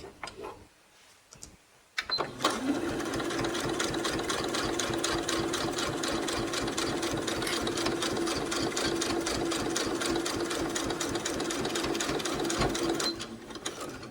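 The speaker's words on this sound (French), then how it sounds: "on va venir coudre tout le long en gardant le bout de notre pied ici, le long de la fermeture." A sewing machine runs steadily, stitching along a zipper with a rapid, even needle rhythm for about eleven seconds; it starts after a short quiet pause and stops near the end, with no talking.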